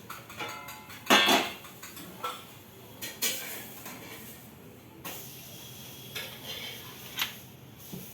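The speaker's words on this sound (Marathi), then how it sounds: "आपण गॅसवरती पॅन ठेवूया" Metal pan clanks and scrapes as it is set onto a gas stove, several sharp knocks scattered over a quiet kitchen background, close but soft.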